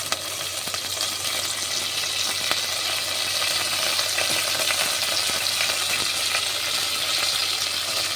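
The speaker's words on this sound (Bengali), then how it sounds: "তেলের মধ্যে রাই, জিরা আর কাঁচা লঙ্কা কুচিয়ে ফোড়ন দিয়েছি। এর মধ্যে দেব কারি পাতা" Mustard seeds, cumin, chopped green chili and curry leaves sizzle in hot oil, a loud and steady frying hiss with faint crackles and pops throughout and no talking.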